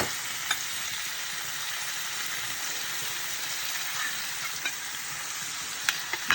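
Green tomato and drumstick curry sizzles steadily in a pan, a continuous bright frying hiss with a few faint clicks of stirring, no voices over it.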